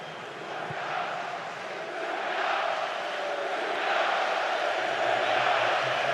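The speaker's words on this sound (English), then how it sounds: "There's an ironic cheer from the England supporters at Serbia's fans trying to lift their team." Stadium crowd of England football supporters at a Euro 2024 group match against Serbia, a broad sustained roar of cheering that swells gradually over several seconds, with no distinct voices standing out.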